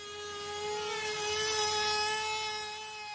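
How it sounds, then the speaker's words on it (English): A Fuji Q5 paint sprayer sprays white latex paint onto a wooden console table base, giving off a steady, even high-pitched turbine whine that swells slightly and then eases. "The sprayer I am using is the Fuji Q5 sprayer."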